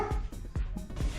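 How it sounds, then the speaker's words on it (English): A pet dog barks in a short run of about four sharp, close barks, heard in a home workshop where RANS S-21 horizontal stabilizer parts are being assembled. "That's my dog barking."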